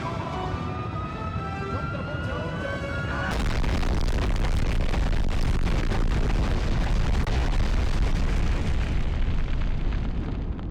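A V2 rocket launches in Medal of Honor: a steady tonal hum gives way to a dense, loud, sustained roaring rumble with crackling bursts throughout.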